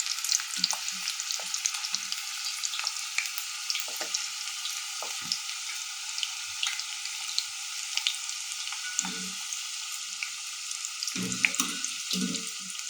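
Potatoes frying in hot oil over a high flame, a bright, steady close sizzle with scattered low clunks and knocks from the pan and occasional stirring.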